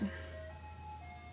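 An ice cream truck's jingle drifts in faintly from a distance, a thin tinkling melody over a low steady hum, lasting only a moment.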